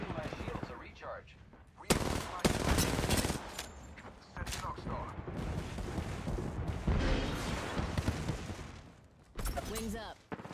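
Rapid, loud video game gunfire in an online shooter, coming as several dense bursts and sustained volleys close by, with short pauses between them and faint voices underneath.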